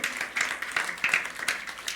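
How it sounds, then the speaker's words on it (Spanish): Church congregation clapping during a sermon, a steady wash of scattered hand claps that swells and dips in waves over two seconds, fairly distant and without voices on top. "Dale un aplauso"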